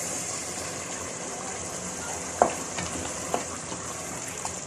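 Beef stew being fried and stirred in a pot, a steady low sizzle with a few sharp scrapes and clinks of the spoon against the metal, close up and with no talking.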